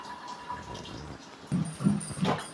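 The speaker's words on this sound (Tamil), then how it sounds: "அந்த பாத்திரத்தில் தண்ணி இருத்துடுறோம்." Water poured into a cooking vessel while making chilli-tempered sambar gives a few short, close splashing gurgles after a quiet start.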